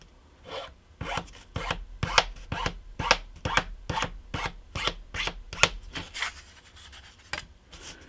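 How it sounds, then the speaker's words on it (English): A small file dragged across the ends of wooden boards for a model railroad pier, a series of about a dozen short rasping strokes, close and crisp, with no talking. "the ends of the boards, you roughen those up"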